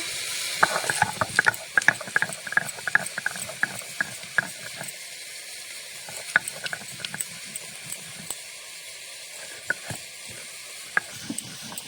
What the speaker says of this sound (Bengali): এখানে মশলাটা বেটে নেব, কাঁচা লঙ্কা, আদা, জিরে একসঙ্গে বেটে নেব